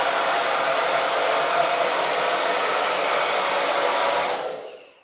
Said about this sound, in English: I'm gonna turn on the blow dryer